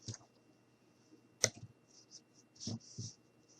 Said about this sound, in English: And then we're going to go ahead and cut down the middle.